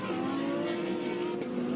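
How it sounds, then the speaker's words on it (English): A Porsche race car drives past on a circuit during qualifying, its engine a steady loud roar with a slight shift in pitch near the end as it goes by. "Porsche about to enter scene"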